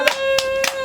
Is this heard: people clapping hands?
yes